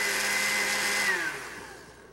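A blender whirs steadily for about a second and a half while pureeing baby food very finely, then winds down and fades, with no voices over it.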